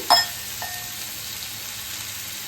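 Soybean paste goes into a hot pan. A brief thump is followed by a low, steady sizzle that carries on quietly without talk.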